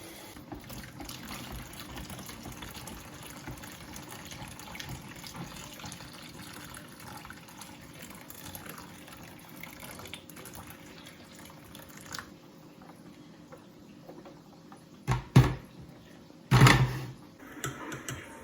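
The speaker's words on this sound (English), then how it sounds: "With my powder, I mix with my water, I put my hot water." Hot water pouring onto pap powder to mix it, a steady liquid hiss and trickle running for a while, ending in a few louder splashes and knocks near the end.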